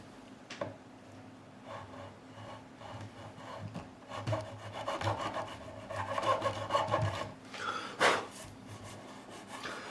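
Abrasive rubbing on the wooden fingerboard of a Gibson SG Special during a re-fret, a close, quiet rasping in repeated back-and-forth strokes that grows busier toward the end, with a sharper scrape near the finish.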